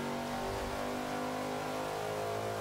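Shelby Cobra 427 V8 engine in the racing game Forza 5, a deep steady rumbling drone with rich harmonics holding at a constant pitch, faint and continuous throughout.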